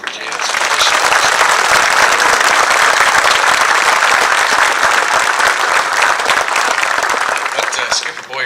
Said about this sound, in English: So how about another round of applause for Jada?